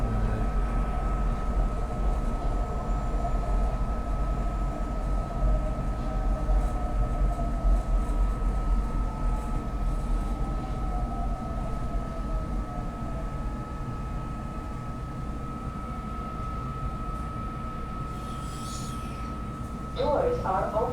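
A Market-Frankford Line el train runs with a steady, loud rumble and a sustained tonal whine from the car, holding evenly throughout, with a brief metallic squeal near the end.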